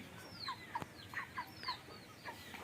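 Chickens on a village poultry farm cluck in short, rising calls, several in quick succession, fairly faint over light outdoor background noise.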